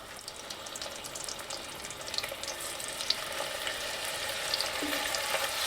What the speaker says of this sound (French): Dans une cocotte, on a mis à chauffer de l'huile et un peu de beurre. Et on va venir marquer la viande sur tous ses côtés.